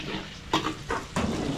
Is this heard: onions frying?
yes